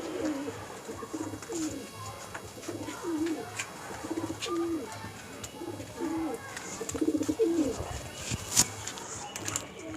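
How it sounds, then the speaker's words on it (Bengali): Pigeons coo repeatedly in soft, rolling low calls, close by amid faint background chatter and occasional chirps. "আমি দুটো পায়রা দেখাচ্ছি"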